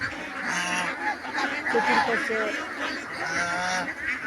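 Ducks being fed on a duck farm set in a lychee orchard give repeated honking, quacking calls in bursts, with someone speaking briefly over the flock.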